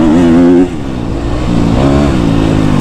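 A KTM 250 SXF dirt bike engine revs loud and close, its pitch dropping after a brief high burst and then climbing again in a steady, buzzing drone.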